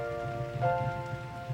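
Steady rain patters on a surface in a summer-camp setting, with soft irregular drops under sustained musical tones.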